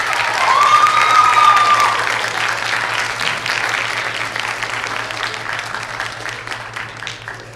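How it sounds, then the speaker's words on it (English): A high school debate audience applauds steadily, a dense wash of clapping that stays loud and even for the whole stretch with a low steady hum beneath it and a faint whistle early on. "let's give them a round of applause"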